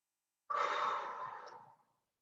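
A single soft, breathy exhalation from a pilates session, one steady outbreath that starts abruptly and fades over about a second and a half, faint and isolated.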